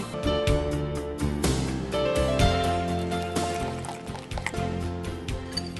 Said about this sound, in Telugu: వీటన్నిటిని నీళ్ళు వేసుకొని జారుడుగా కలుపుకోవాలండి